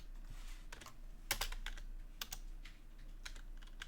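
Typing on a computer keyboard, with uneven clusters of sharp key clicks and a few louder strokes, close but quiet, no talk.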